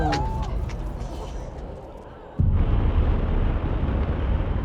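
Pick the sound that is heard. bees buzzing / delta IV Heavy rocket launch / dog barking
delta IV Heavy rocket launch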